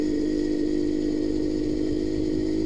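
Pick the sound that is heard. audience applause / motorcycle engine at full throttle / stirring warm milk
motorcycle engine at full throttle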